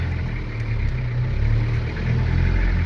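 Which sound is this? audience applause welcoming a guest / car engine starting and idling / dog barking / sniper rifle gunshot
car engine starting and idling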